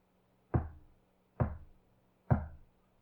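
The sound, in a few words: dull rhythmic knocking in the trees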